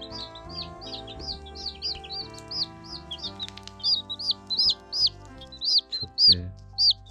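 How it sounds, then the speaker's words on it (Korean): Baby chicks peep in a rapid series of high, thin chirps, growing louder and more insistent toward the end, with no talking. "병아리 우영지입니다"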